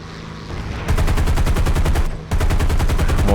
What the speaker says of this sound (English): It looks like my gun is actually firing at the boomerang, which is 700 meters away.